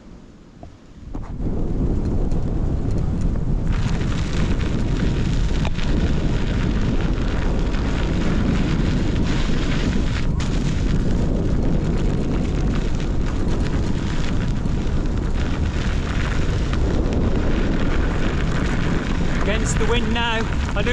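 Heavy wind rushes across the microphone of a Gotway electric unicycle riding into a headwind along a canal towpath, a loud, continuous roaring buffet that starts after a brief quiet moment and never lets up.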